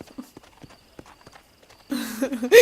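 Horse hooves clip-clop in the video game Red Dead Redemption, a run of light, evenly spaced hoof taps in quiet surroundings, then louder noise swells at the end.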